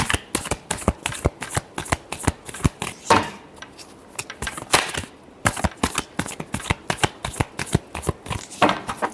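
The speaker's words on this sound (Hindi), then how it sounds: "Last shuffle." Tarot cards are shuffled briskly by hand in a quick, steady run of papery riffles and taps, close and clear with no talking throughout.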